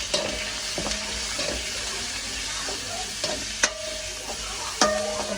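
Steady crackling sizzle of mustard seeds, cumin, onion, green chillies and curry leaves frying in hot oil, with occasional sharper pops and clinks of a spoon stirring the pan.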